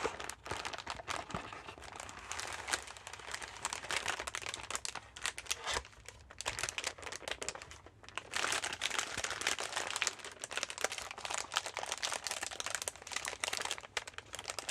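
Continuous crinkling and crunching of a crumpled candy wrapper being opened and handled, close and intimate, with dense rustling bursts throughout and no talking.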